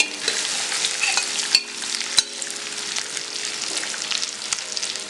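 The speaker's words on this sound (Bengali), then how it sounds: "এখন আগে থেকে মেখে রাখা মাছের মিশ্রণটা দিয়ে দিচ্ছি" A pre-mixed fish mixture stirs into frying onions and green chili in a pan, making a steady loud sizzle with a few sharp clicks of the spoon against the pan.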